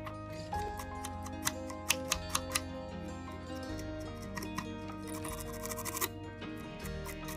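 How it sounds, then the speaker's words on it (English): Fibers of a shrimp fly are brushed out at the tying vise in a quick series of short, crisp strokes, close by, over a soft, steady tonal background. "brush the fibers out to give the fly a little bit more volume"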